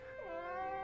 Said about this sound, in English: Your cat was scared, wasn't she?